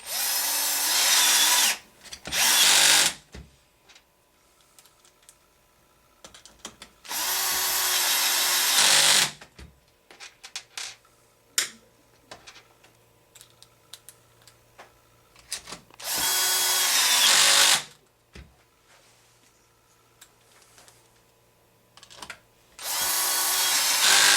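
A power drill drives screws into HPI Baja SS parts in four loud, close whirring bursts of a couple of seconds each, with quiet handling clicks and taps in between.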